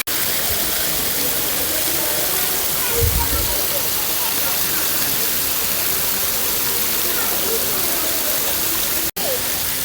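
Steady rushing splash of water pouring from the fountains at Saheliyon ki Bari garden in Udaipur, a continuous dense hiss close by that fills the whole stretch without pause.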